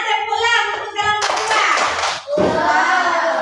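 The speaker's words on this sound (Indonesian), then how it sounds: "tepuk lah untuk kelompok" Classroom students clapping hands together for a group, loud rhythmic clapping in bursts, close and lively, mixed with children's voices speaking or chanting alongside.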